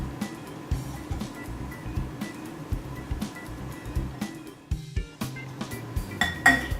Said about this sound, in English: And whisk them all together.